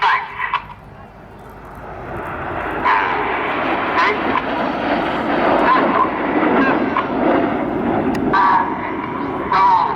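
Red Arrows jets fly in formation at the Farnborough Airshow, a broad, sustained jet roar with surging swells, under a commentator's continuous talk.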